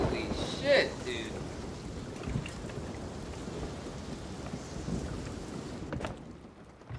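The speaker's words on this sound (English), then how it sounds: "We are in the storm." Thunderstorm with heavy rain pounding in a pirate sailing game at sea, a continuous wash of rainfall with a low rumble of thunder early on, steady and enveloping, fading slightly at the end.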